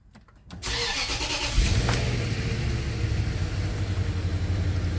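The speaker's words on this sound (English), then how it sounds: "fire the car up." A Range Rover L322 engine cranks and catches after a brief quiet moment, then settles into a steady, close idle with a low rumble that continues throughout.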